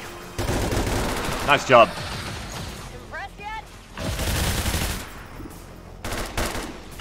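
Gunfire in the alien-combat strategy game XCOM 2 (War of the Chosen, modded), with bursts of automatic weapon fire and booming shots between pauses, while a voice speaks briefly in the game.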